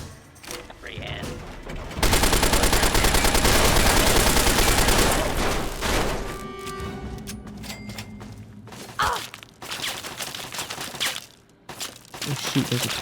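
In Fallout 3, a turret rattles out a sustained loud burst of automatic gunfire, followed by scattered shots, impacts and thuds, with someone talking over parts of it.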